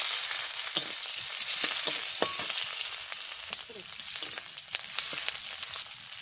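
Onions frying in an oil-filled pan while a Bengali tilapia curry is prepared, giving a steady close sizzle with scattered crackles and pops throughout and no talking.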